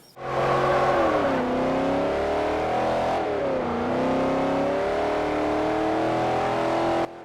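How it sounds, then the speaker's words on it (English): Car engines revving in the video game Forza Horizon on Xbox 360, a loud sustained engine roar that climbs, dips as it shifts gears, and climbs again for several seconds without any talk. "The realistic roar of the engines"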